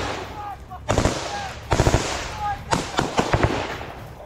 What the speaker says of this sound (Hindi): कहीं बैठकर कहीं जमीन पर लेटकर फायरिंग की जा रही है यूक्रेन के टारगेट पर।